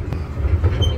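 A miniature theme park train at Legoland Windsor rumbling along its track close by, a low steady rumble with faint clatter, lasting about a second.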